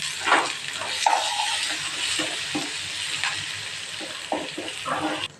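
Beetroot, grated coconut and onion sautéing in a pan: a continuous hissing sizzle with intermittent close spoon scrapes and stirring sounds throughout.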